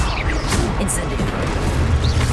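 A fiery Incendio spell erupts in the Hogwarts Legacy video game, a dense roaring whoosh with boomy low rumble and crackling bursts that fill the short stretch, with a voice faintly mixed in.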